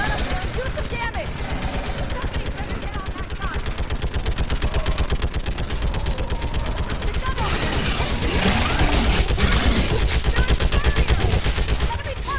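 A mounted gun in Mass Effect 3 Remastered hammering out rapid continuous automatic fire at enemies, a dense rattling stream that stays loud throughout with battle noise around it.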